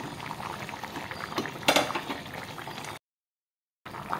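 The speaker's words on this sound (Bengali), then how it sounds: "তো মাছে দিয়ে আমি 5 মিনিটের মতো জাল দিব" Fish curry bubbling in a pot after the fish goes into the broth, a soft continuous simmer with a brief metallic clink partway through, then a short gap of silence before the bubbling resumes.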